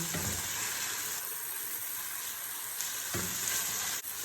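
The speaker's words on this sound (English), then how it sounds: "So now I will mix this together and cook it for about 5 minutes" Chicken and vegetable chowmein is tossed and fried in a pan with a loud, steady sizzle, broken by brief stirring scrapes and a short dip as the pan is handled, close and free of talk.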